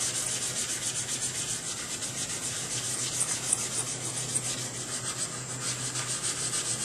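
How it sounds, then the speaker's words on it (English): A Scotch-Brite pad scrubs a part from a Lexus LS 400 power steering system, giving a steady, close, continuous abrasive rubbing with no pauses and no talking. "I'll probably take some Scotch-Brite"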